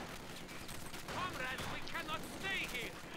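Machine gun fire in the Company of Heroes 2 video game, a distant rattling under in-game sounds, with players talking over it.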